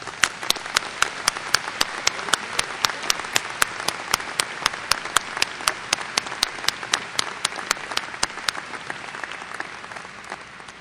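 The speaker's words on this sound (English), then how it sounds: "you can rise and take a round of applause" Applause fills a graduation ceremony hall: a dense, even wash of clapping from a large audience, with regular sharp snaps from a nearby pair of hands. It holds steady for about ten seconds before tapering slightly.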